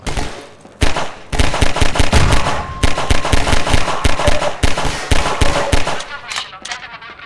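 Rapid bursts of gunfire in the video game Half-Life 2 in an underground setting, sharp repeated shots in quick volleys with short pauses, loud and close, tailing off near the end.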